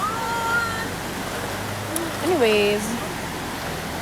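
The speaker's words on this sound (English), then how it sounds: "I was at a river. At this river." A flowing river hisses steadily at a moderate level, while a person speaks briefly over the water.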